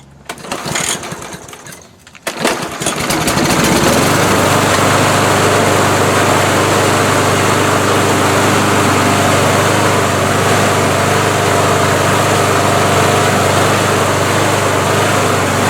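After a few sputtering attempts, a repaired lawn mower's small engine catches and runs loud and close, settling into a sustained buzzing drone.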